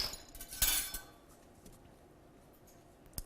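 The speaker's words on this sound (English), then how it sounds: "We'll just kind of whisk this together" A whisk scrapes and clinks against a bowl while stirring together the dry ingredients for fluffy pancakes, a brief burst of metallic rattling followed by quieter faint taps.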